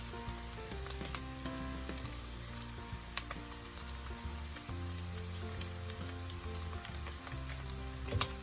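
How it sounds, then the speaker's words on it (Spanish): Beef consommé goes into a hot pan of Cuban ropa vieja, and a steady, close sizzle and bubbling frying carries on throughout without any talk. "Le echamos el consomé de res."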